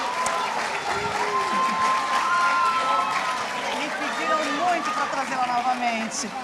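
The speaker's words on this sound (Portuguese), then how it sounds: "Pessoal, salva de palmas como agradecimento." A school audience at a career talk bursts into loud, sustained applause mixed with cheering and overlapping voices, the clapping holding steady throughout.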